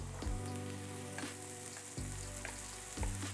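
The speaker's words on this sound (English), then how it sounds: "you're going to hear that mixture starts to sizzle" Bacon, egg, rice and carrot mixture sizzling steadily in a hot pan, a continuous crackling hiss like rain with occasional scrape or stir knocks, close and alone with no voices.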